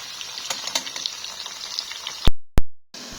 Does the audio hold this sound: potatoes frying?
yes